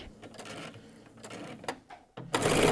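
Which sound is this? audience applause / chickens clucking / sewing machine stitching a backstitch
sewing machine stitching a backstitch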